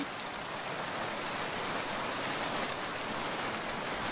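Steady, dense rain falls without pause, a broad even hiss that stays at constant loudness throughout, with no voices.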